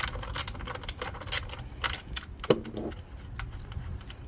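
Wrench and metal clicks while a bolt is loosened in a car engine bay during an oil catch can install, a quick run of light ratcheting and clinking taps with one sharper knock midway, close and fairly quiet.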